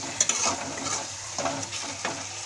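Spice paste fried in oil for bottle gourd kofta curry, a close sizzle and bubbling with a few sharp spatula scrapes, heard alone without talk.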